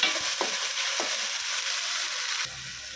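Ginger-garlic spice paste fries down in a pan for goat meat curry. A dense, loud hiss carries a few dull stirring knocks, then drops away sharply near the end.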